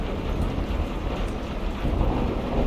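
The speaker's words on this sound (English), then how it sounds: "the storm bears down on us" Heavy rain and rumbling thunder from a thunderstorm in the video game Kentucky Route Zero, a dense, continuous roar of downpour with low thunder rolling underneath, close and loud with no voices.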